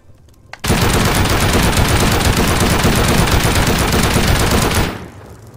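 A shotgun turret in the survival game Rust fires a rapid, unbroken burst of loud blasts for about four seconds, close and harsh, then cuts off abruptly with a brief fading tail.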